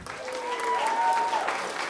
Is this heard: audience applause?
yes